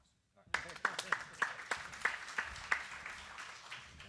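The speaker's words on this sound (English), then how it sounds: "we'll give you another applause." Applause from a modest audience at a city staff and elected officials meeting on a draft master plan: a run of distinct, fairly regular claps, moderately loud and close, lasting a few seconds.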